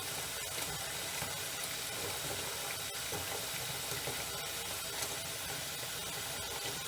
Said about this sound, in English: I'm going to put a little more water in there just to make sure I get good coverage.